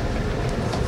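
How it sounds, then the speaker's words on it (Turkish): Ankara-Konya high-speed train running, a steady low rumble with broadband rail noise throughout, continuous and fairly loud with no voices. "Ankara-Konya yüksek hızlı treni ile gidiyoruz"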